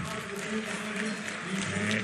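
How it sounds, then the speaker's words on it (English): A German crowd cheers steadily beside the water at the canoe sprint world championships in Duisburg during the men's K1 5000 m final, a broad, continuous roar of voices and clapping from a distance. "You'll hear the German crowd getting excited because Nico Paufler is about to move into the bronze medal position."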